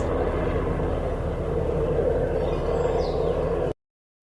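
Aeroplanes flying: a steady, loud engine drone with a low rumble, holding evenly for several seconds before cutting off abruptly into silence.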